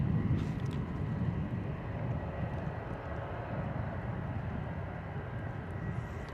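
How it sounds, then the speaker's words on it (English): An EasyJet Airbus A320 on approach inbound from Geneva produces a steady, broad jet engine roar that holds at an even level throughout, with no voices present. "our A320 coming in from Geneva"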